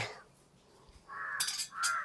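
A crow caws twice in quick succession outdoors, fairly near and clear, after a brief quiet moment.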